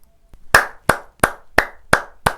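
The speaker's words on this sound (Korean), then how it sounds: "박수 드립니다." Six sharp hand claps land at a steady, even rhythm, close and crisp against a quiet background with no talking.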